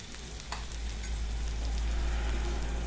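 Chopped onion frying in a pan for a potato bhaji, with a steady, close sizzle and occasional soft stirring scrapes, and no talking.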